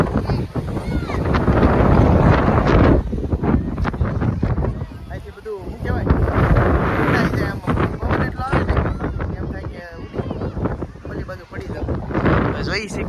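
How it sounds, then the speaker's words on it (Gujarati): Strong wind at a lighthouse roars and buffets the microphone in heavy gusts, while people talk intermittently underneath. "જો અહીંયાથી કેટલો પવન આવે"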